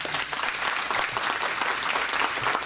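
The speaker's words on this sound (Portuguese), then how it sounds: "salva de palmas para o mestre Marcelo" An audience at a maracatu celebration bursts into applause for a master of the tradition, dense and lively clapping that holds at a strong level throughout, with no voice on top.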